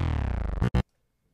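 A plain FM bass synth patch in Reason, before any FM amount is added, plays a buzzy, slightly wobbling low tone that cuts off, followed by two short stabs and then silence.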